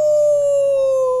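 A voice imitates a long, steady howl for a space creature from the moon, a single loud, close, sustained tone with no break.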